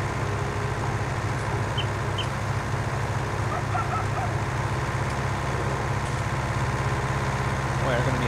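A tractor engine runs in the farming video game Farming Simulator 2019, a continuous low droning hum with a faint voice talking over it.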